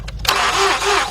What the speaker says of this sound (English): Crank it. Okay. Crank it.